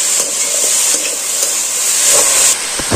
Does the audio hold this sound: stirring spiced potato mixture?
yes